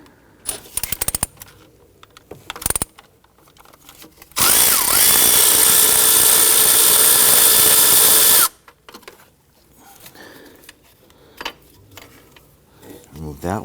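A power tool spins out a long bolt from the thermostat housing on a 2011-2015 Kia Sorento, one loud steady whir lasting about four seconds, framed by metallic clinks and handling noise, with someone talking around it.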